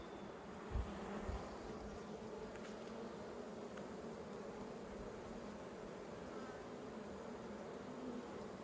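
Bees hum continuously around an open nucleus hive outdoors, a faint, steady buzzing drone with no voices and a couple of soft low bumps near the start.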